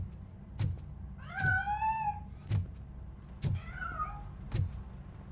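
A cat meows twice in a video game scene, each call a clear rising-falling cry, with soft thumps between and no talk.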